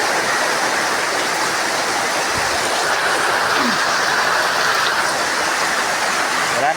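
Heavy rain pours on a wet afternoon in Kidapawan, a loud, steady, unbroken wash of falling water close by.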